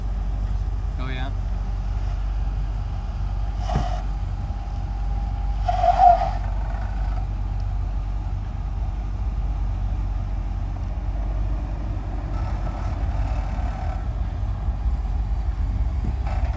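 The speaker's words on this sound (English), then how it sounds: "Looks like a total traffic jam on the trail." Off-road vehicles sit in a traffic jam on a Moab trail, a steady close engine drone with slight surges and a brief rev near the middle, under occasional voices.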